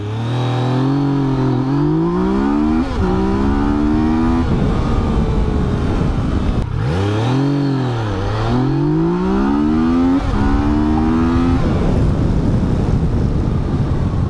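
A loud 2018 Yamaha Tracer 900 motorcycle engine revs hard in a full-throttle launch and climbs through several gears, each shift dropping the pitch before it screams upward again, close and continuous.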